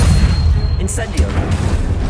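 Incendio fire spell in the Hogwarts Legacy video game, a booming burst with crackling pops layered over a busy, rumbling battle soundscape.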